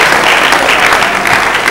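A church congregation claps together in a brief burst of loud, dense applause, close and continuous, with no speech on top.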